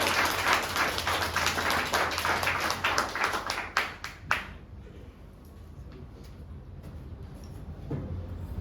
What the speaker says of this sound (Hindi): एक बार जोरदार तालियां, जोरदार तालियां, जोरदार तालियां